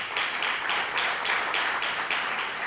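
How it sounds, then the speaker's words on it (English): Audience at a business breakfast summit gives a round of applause, a continuous wash of many hands clapping at moderate distance, swelling in gentle pulses. "Let's give him a round of applause."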